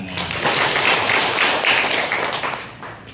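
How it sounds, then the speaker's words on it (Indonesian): Congregation clapping hands together during a Catholic memorial Mass for Fransiskus Sie Tedjo Rachmanto, a loud, close burst of applause that swells and holds for about three seconds before tapering off at the end. "Tepuk tangan."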